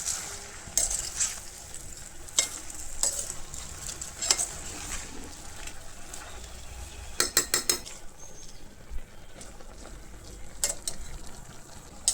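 Homemade tomato sauce of garden tomatoes, with Kashmiri chilli and salt, stirred in a pan: a soft background bubbling with several brief clusters of utensil scrapes and clinks against the pan, moderately quiet, with no voices.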